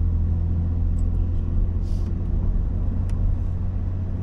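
A classic Jaguar S-Type cruises along the road, a steady low engine and tyre rumble filling the cabin at an even level, with faint small clicks and rattles and no talking.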